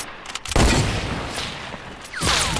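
Gunfire in the video game Fortnite: a few sharp shots, then a loud sustained burst of firing that eases off and swells again near the end, with no talk over it.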